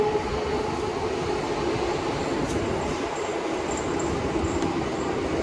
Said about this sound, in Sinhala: කෝච්චිය